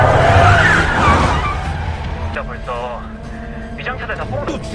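A car turns sharply in a crime film scene, its tires squealing and engine surging loudly at first, then fading, while people talk over it.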